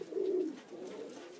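Pigeons on a farm coo quietly: one fuller, rounded coo, then a softer, trailing second call, heard faintly and alone.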